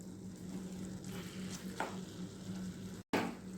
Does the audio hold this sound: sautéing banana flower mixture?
yes